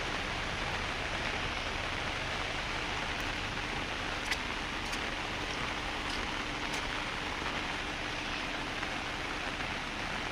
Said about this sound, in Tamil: இப்போ மழை நல்லா பெய்யுது இந்த இடத்துல.